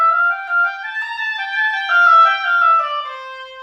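Solo oboe in a technical concert band etude phrase, starting soft and swelling toward a sustained F before tapering: a smooth, reedy legato line of connected notes, close and alone.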